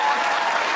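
A studio audience applauds and cheers steadily at an Oprah interview, a dense, loud wash of clapping with no break.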